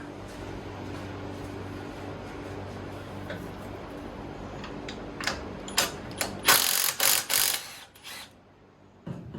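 A hand ratchet works loose a 14 mm nut on a carriage bolt on a Craftsman LT2000 riding mower, giving a run of close, quiet mechanical clicks that grow into a louder, busier burst of ratcheting near the end.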